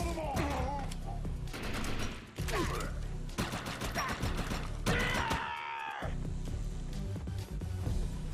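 Rapid gunfire bursts in the video game Defiance, several volleys crackling loudly with clanking impacts, over steady background game music.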